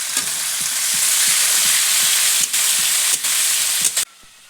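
Chopped onion frying in oil with ginger and garlic, a loud, steady sizzle with repeated scraping stirs, until the hiss drops sharply near the end.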